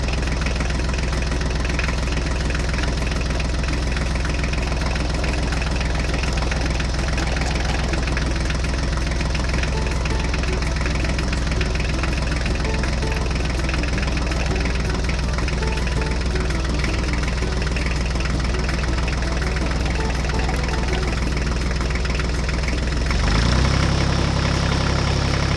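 A Mahindra tractor hitched to a trolley idles close by with a loud, steady, slightly knocking engine rumble that continues unbroken, briefly swelling near the end.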